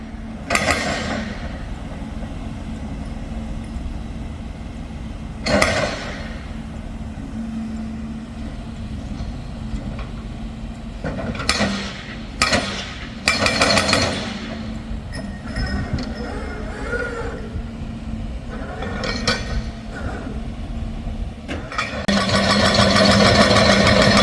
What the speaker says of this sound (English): there you go, pile driving.